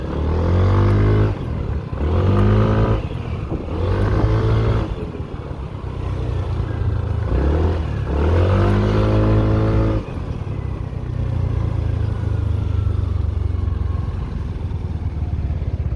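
A Yamaha NMAX 155 scooter engine revs up repeatedly, rising in pitch through several accelerations, then settles into a steady drone as it cruises, loud and close.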